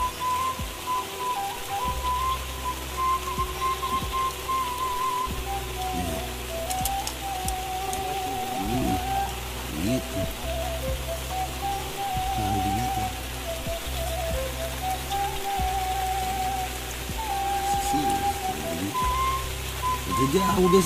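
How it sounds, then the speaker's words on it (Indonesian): Rain falls steadily at Situ Sanghiyang, a lake in Tasikmalaya, a constant broadband patter beneath people talking and a low droning hum throughout. "Hujan guys."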